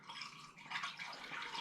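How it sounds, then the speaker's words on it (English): Spring water pours from a container into a glass demijohn holding apple juice, making a faint, steady splashing gurgle that swells and settles over the brief moment, with no talking. "So I'm just going to pour the water in."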